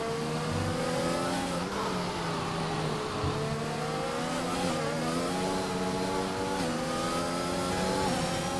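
A race car engine in a realistic racing video game at the France round roars steadily, close and loud, its pitch rising through the gears and dipping briefly on shifts and braking.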